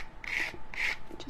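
Dried paint scraped off the edge of a small artist trading card, two quick, close rasping strokes in a row, followed by lighter scuffing, loud and alone without any talk.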